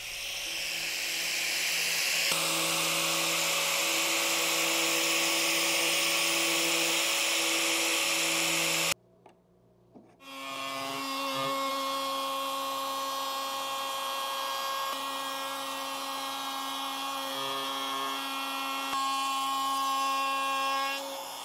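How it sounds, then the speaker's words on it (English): A power sander runs steadily on a wooden art piece with a high whirring tone. It cuts out briefly about halfway through, then spins back up and keeps going close by and loud. "I totally sanded off my markings before I was able to use them to position everything"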